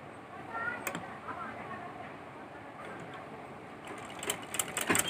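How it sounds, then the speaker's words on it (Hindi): Sewing machine stitching a double seam on a baby plazo, a steady close mechanical whir with a few sharper clacks near the end. "तो सबसे पहले हम इस बेबी ड्रेस की प्लाजो की सिलाई करेंगे।"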